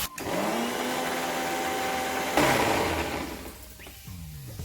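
A kitchen grinder whirs steadily as it blends poppy seed with green chili and a splash of water into a paste, a loud continuous motor drone that shifts pitch midway and then winds down near the end.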